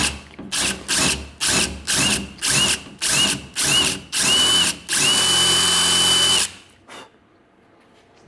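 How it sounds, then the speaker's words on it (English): A power drill bores into the hood of a 2018-2021 car during a Cervini's 4-inch cowl hood install, about ten loud short whirring bursts, then one long sustained run before the motor winds down to quiet. "so Colin's gonna drill the hood."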